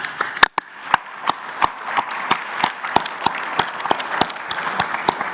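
Scattered, uneven hand claps crackle at a Mexican presidential morning press conference as a room applauds athletes, the sharp individual claps spread across several seconds rather than forming a dense roar.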